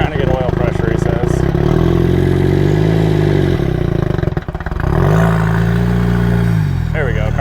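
Rock crawling buggy engine running steadily at Sand Hollow, loud and close, with rising and falling revs as it works over rock obstacles, voices talking over it throughout.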